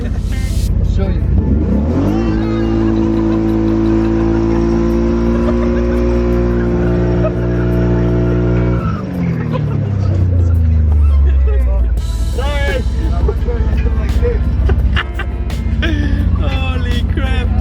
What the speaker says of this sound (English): Ever seen a burnout with kids in the back of the story? I'll show you.